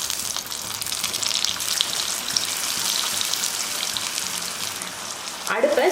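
Potato-stuffed chilli bajji frying in hot oil for an evening snack, giving a steady close bubbling hiss that runs unbroken throughout, with a brief louder crackle near the end.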